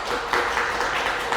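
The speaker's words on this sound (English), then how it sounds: "I appreciate the clapping" An audience at an art-space talk on ableism applauds steadily for a moment, a dense wash of clapping hands filling the room.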